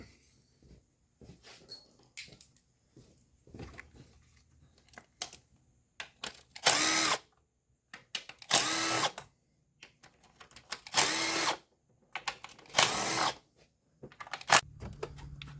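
A power tool pulls the 10mm valve cover bolts from a 2015 Honda Accord 4-cylinder engine. About five short, loud whirring bursts come in an irregular rhythm, with quiet handling noises between them.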